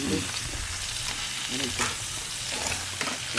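Onions frying in hot oil in a pan, a steady, close crackling sizzle with faint stirring, continuous and alone for a few seconds.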